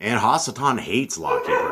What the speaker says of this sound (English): Sorry for my dogs. I don't know why they're breaking out, but they do that.